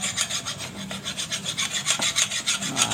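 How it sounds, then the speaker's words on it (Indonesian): Metal part of a jammed machine being rubbed with a file or sandpaper, a quick, even series of raspy scraping strokes, close by and fairly quiet, with no talking. "sambil kita gosok-gosok dengan kikir ataupun"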